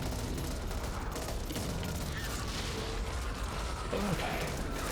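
A semi-automatic gun fires in the zombie shooter game Back 4 Blood, a dense, steady stream of shots with mechanical clatter, loud and continuous over busy game noise.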